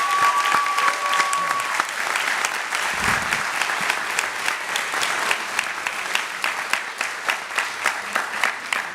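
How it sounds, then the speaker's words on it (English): Sustained audience applause fills a graduation ceremony hall, loud and steady, then thins toward the end into distinct, rhythmic individual claps. "Can we give her another round of applause?"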